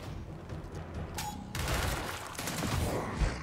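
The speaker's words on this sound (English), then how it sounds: "let's go ahead and do a disabling shot on him." Disabling shot fired in the turn-based strategy game Gears Tactics, heard as a burst of loud gunfire with dense broadband crackle and booming low thumps, continuing over a rumbling battle backdrop.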